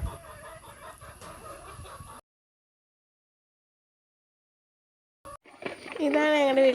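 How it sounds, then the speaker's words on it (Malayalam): An Aseel rooster clucks and calls loudly up close, following a first stretch of clucking and a few seconds of silence. "അസീൽ പൂവനാണ്"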